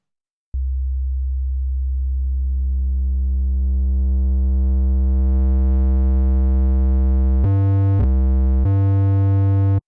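Synthesized sub bass with drive cranked up: a deep sustained tone swelling gradually brighter and grittier as harmonics build, then a few short chopped restarts near the end, loud and alone.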